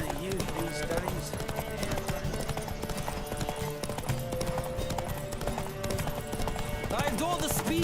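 Galloping horses in a race in The Witcher 3 video game, a dense, continuous drumming of hooves throughout, close and steady, with voices speaking over the pounding.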